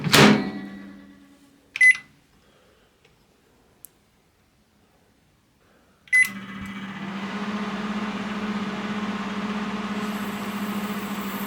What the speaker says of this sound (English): The microwave is working perfectly fine.